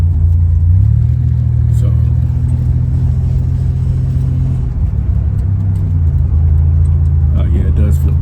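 A Buick Grand National with freshly redone rear suspension cruises on the road, its engine a loud, steady low rumble with road noise throughout, and someone speaks briefly over it.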